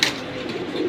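Caged pigeons, a khaki hen and a red cock, give a brief low coo close by, with no talk over it.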